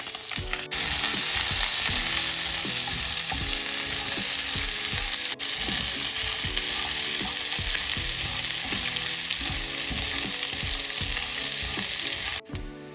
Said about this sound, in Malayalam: അതിലേക്ക് നമുക്ക് വെളുത്തുള്ളി, സവാള, കറിവേപ്പില ഇട്ടിട്ട് നന്നായിട്ട് മുരിച്ചെടുക്കാം